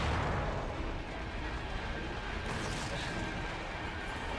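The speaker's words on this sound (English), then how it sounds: "Explosions." Dense, continuous rumbling blasts and bursts of explosions in the finale of Resident Evil 2 Remake, loud and sustained with no speech over them.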